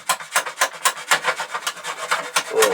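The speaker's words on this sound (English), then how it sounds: "I'm just ever so gently scraping these off" Blade scraping resin off a walnut flat bow, a rhythmic series of about a dozen close rasping strokes at a steady pace, loud and alone.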